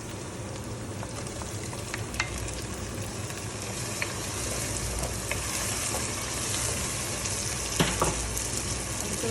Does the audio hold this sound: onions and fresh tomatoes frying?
yes